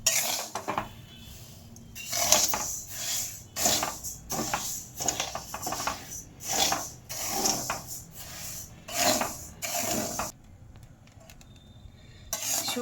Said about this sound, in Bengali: শুকনো খোলায় এইভাবে ভেজে নিতে হবে।